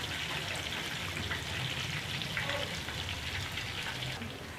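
Chicken pakora frying in hot oil in a pan, a steady close sizzle with crackling bubbling that runs throughout without any talk.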